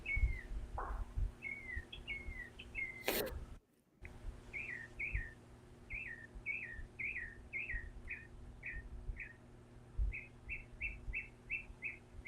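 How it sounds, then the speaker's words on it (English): A bird outside in the trees repeats a bright chirping call in quick series, fairly clear over a low background hum, with one brief loud knock partway through. "I love that bird."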